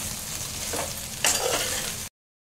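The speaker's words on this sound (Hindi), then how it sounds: "अब इसमें डालेंगे जो मुठिया हमने रेडी की है वो डाल देंगे। डालने के बाद अच्छे से मिक्स करेंगे।" Steamed matar methi muthiya pieces stirred and roasted in a pan tempered with sesame and coriander, a steady close sizzle with scraping spoon strokes, then abrupt silence.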